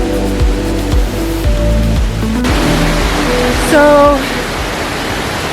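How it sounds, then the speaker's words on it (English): Kravice Waterfalls near Mostar in Bosnia and Herzegovina send up a steady, loud hiss of rushing water, with a voice speaking briefly and other tones heard over the roar early on. "that was the Kravice Waterfalls"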